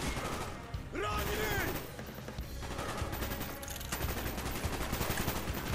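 Gunfire in the video game Call of Duty Black Ops, a dense run of rapid shots through the middle of the clip, loud and close over a busy game mix, with someone talking intermittently.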